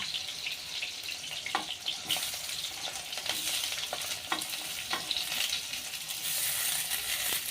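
Onion and green chillies sizzle steadily in a hot kadhai for egg tawa pulao, with a spoon stirring and scraping now and then; no talking.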